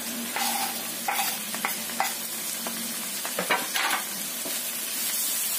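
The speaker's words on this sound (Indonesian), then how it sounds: "masukkan bawang putih dan bawang merahnya." Garlic and shallots sautéing in a pan for a red soup, with a steady sizzle and repeated stirring scrapes throughout, no talking.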